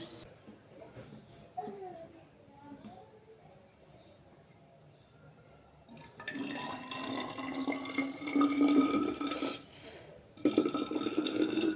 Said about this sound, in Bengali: কিছুটা জল ফ্লাক্সে রাখবো আর কিছুটা চা বানাবো